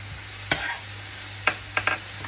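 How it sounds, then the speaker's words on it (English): Seasoned vegetables with oregano, rosemary, onion powder and garlic powder stirred in a pot: a few sharp spoon scrapes and knocks against the pot, one near the start and a quick cluster later, over a low background hum. "And so I just stir it around because I don't want it to stick to the bottom of the pot."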